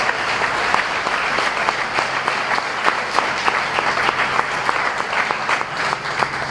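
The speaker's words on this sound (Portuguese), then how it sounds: "levanta a tua mão e aplauda ao Senhor em nome de Jesus" A church congregation breaks into sustained applause, dense steady clapping from many hands filling the room at an even level throughout, with a faint low hum beneath.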